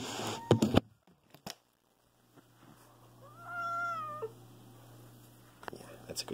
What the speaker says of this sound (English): You're hearing a cat.